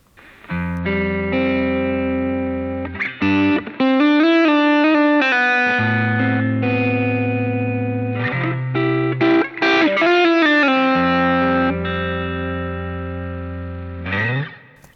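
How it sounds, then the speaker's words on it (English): An electric guitar through a JOYO JF-12 Voodoo Octave fuzz pedal's distortion channel plays sustained chords and riffs, thick and saturated with a slight chorus shimmer, alone with no talking. "The second red channel is a distortion and it sounds like that."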